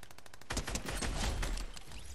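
Rapid gunfire in a Fortnite match, a dense burst of repeated shots rattling close and loud, with no voices.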